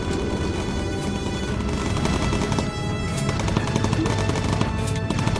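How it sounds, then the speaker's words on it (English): Bomber Crew game action: the bomber's gunners fire machine guns in dense, continuous rattling bursts, loud and busy throughout with a few sharper cracks layered over the rolling gunfire. "I do think that the gunners should shoot."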